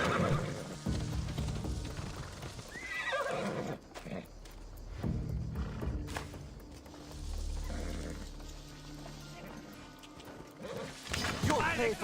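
Mounted guards' horses in Assassin's Creed Odyssey whinny loudly and close up, with hooves clip-clopping beneath, over game music and voices.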